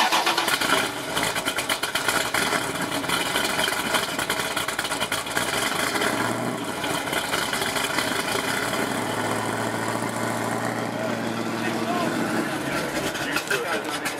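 A 1967 Ford Mustang Shelby GT500 Eleanor engine runs loud and close after a hard start, its rough rumble wavering before settling into a steady idle, with people talking nearby.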